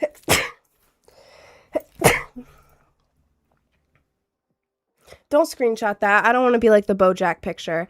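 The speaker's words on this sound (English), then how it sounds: "I feel like I'm gonna sneeze." A loud sneeze bursts out twice close to the mic from someone with a cold, followed by a short quiet gap and then clear talking.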